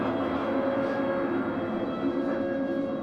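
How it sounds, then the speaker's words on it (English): A train pulls into Chesham station, where it terminates, with a steady close rumble and faint tonal hum holding evenly throughout. "Mind the gap between the train and the platform."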